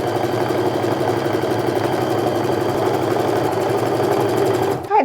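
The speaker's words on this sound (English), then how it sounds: "let's start and just sew these top edges together" A sewing machine stitches the top edges of a sling bag's pockets together, a steady continuous motor whir and rapid needle chatter running unbroken for about five seconds before stopping abruptly at the end, with no talking.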